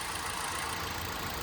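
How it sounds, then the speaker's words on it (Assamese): A 2015 Hyundai Xcent petrol car idles with a steady, even engine hum and broadband mechanical noise, close and constant, with no voices. "ইঞ্জিন চাওক ষ্টাৰ্টতে আছে, দেখিছেনে?"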